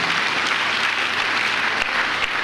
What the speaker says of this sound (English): If you want to clap for God, clap for him.